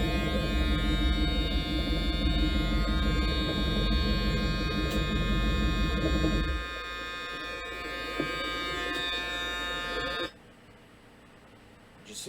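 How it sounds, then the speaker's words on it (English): A steady electronic door-ajar buzzer in a Ford Pinto drones on with a low hum, stops partway through, and leaves quieter background noise behind. "Still got the door buzzer."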